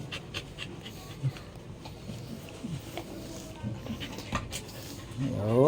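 A freshly bathed dog pants close by in quick, steady breaths, with faint rustling around it and a louder burst of movement at the very end.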